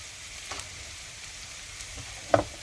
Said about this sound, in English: fry it for a little while longer till you see the onions becoming a little soft